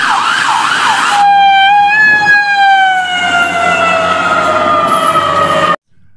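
A toy ambulance's loud electronic siren wails with a falling, wavering tone, switching patterns partway through before cutting off abruptly at the end.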